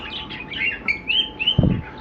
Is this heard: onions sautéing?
no